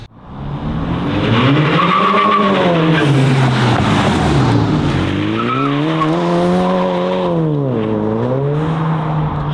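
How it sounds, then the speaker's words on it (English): Ford Maverick engine with a MagnaFlow exhaust revving hard, loud and close, the pitch climbing and falling in two long sweeps and settling between them, with tire squeal mixed in. "He's gonna keep revving this, so you know what? Thanks MagnaFlow"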